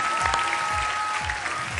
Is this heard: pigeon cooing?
no